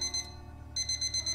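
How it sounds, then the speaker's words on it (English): An alarm clock rings in a video game as a bright electronic chirp in short repeating bursts, pausing briefly before the pulsing pattern resumes over a low steady hum. "Oh no, that's the alarm clock."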